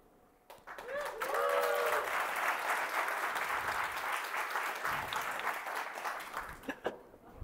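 Audience at a tech talk breaks into sustained applause, a dense wash of clapping that swells quickly and holds for several seconds before thinning out, with a brief voice near the start.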